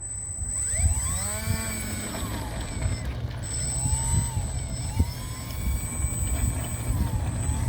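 A small Mitchell 01 Panthera 3D RC model airplane's high electric whine rises and sweeps in pitch over steady outdoor wind noise during takeoff, with a continuous thin high tone throughout.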